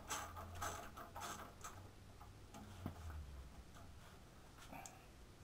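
Ratchet tightening a spark plug screw on a V-twin 950 engine, a series of faint quick mechanical clicks in a steady rhythm, close but quiet against background noise.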